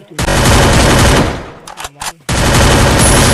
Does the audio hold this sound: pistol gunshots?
yes